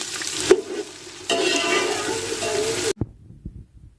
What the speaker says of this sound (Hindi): प्याज को हल्का ब्राउन करेंगे।